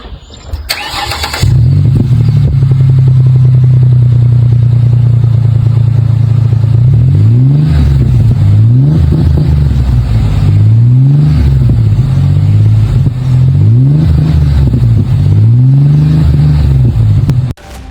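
A 4.0 Ford Ranger with a 2.5-inch straight-through muffler and 3.5-inch polished single-wall tip starts with a sharp crank, settles into a loud, steady idle, then revs in five or six rising and falling blips before shutting off.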